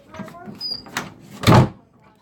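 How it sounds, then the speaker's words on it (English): An interior door swings shut once with a single firm thud in a quiet room where a tarantula is kept, close by, with faint background noise before and after. "Door shut."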